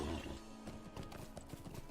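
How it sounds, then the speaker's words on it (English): Horse hooves in the video game Lord of the Rings Online, a steady run of clip-clop beats from a ridden mount, fairly faint against a busy game soundscape. "Get on my horse and see if I can find one."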